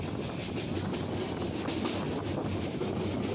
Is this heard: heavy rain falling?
no